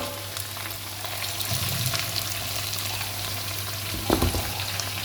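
Meat shanks (nalli) added to onion masala frying in a large pot for nihari, a steady loud sizzle with a couple of dull thuds and bursts of crackling as pieces drop in.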